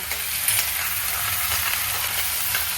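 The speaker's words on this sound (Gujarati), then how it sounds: "મમ્મી જો હિંગ નાખી પછી આદુ મરચાં" Asafoetida, ginger and green chillies sizzle and crackle steadily in hot oil in a home kitchen, a continuous dense fry hiss with a few brief stirring scrapes, close and even throughout.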